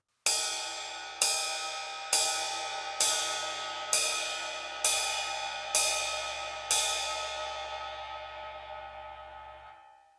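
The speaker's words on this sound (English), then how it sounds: "So, let's first start with our basic jazz ride pattern." A jazz ride cymbal pattern played on a drum kit: eight evenly spaced, ringing cymbal strikes about one second apart, each shimmering and decaying, with the final wash fading out over several seconds, no talking.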